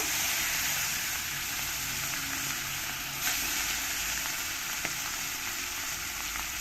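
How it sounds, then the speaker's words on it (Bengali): Pieces of rohu fish fry in well-heated oil, producing a constant close hiss and crackle at moderate volume, with a couple of brief sharp pops and no speech. "তেলটা ভালো করে গরম হয়ে গেছে এবার আমি এই মাছগুলো এক এক করে দিয়ে দেব"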